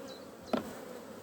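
Honeybees buzz faintly around an opened hive during a frame inspection in Ireland, one brief louder buzz passing close over a low, steady hum.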